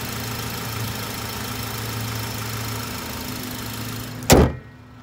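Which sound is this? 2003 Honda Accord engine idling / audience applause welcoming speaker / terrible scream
2003 Honda Accord engine idling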